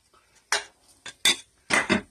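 Onions placed around the sides of meat in a crock pot for a Burgundy pot roast, a few close clunks and scrapes of utensil against the pot in quick succession, no talking.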